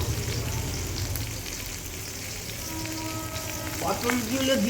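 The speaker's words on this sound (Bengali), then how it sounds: "দেখো আমি সামান্য নুন আর সামান্য হলুদ দিয়ে এটাও ভাজবো" Pointed gourd (potol) frying in hot oil with salt and turmeric, a steady close sizzle and crackle running throughout, with a few faint tonal kitchen sounds near the end.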